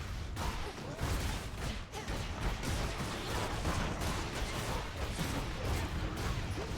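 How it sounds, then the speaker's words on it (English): A sustained burst of explosive, crashing game sound effects from Hades II rumbles dense and loud for several seconds, with booming impacts layered together and no clear voice. "out of that explosion"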